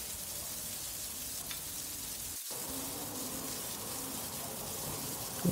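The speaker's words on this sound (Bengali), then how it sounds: "এবার ভাজতে শুরু করেছে আমার আম্মু" Prawns frying in a pan for chili garlic prawn, a faint, steady hiss of oil that runs on evenly with a brief dip partway through, quiet and without voices.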